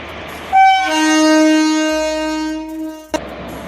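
Train horn at Tomka railway station in India: a loud, close, sustained multi-tone blast of about two and a half seconds, ending in a brief clank, with low rumble underneath.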